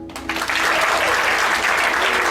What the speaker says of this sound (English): Clap if you know who Sting is.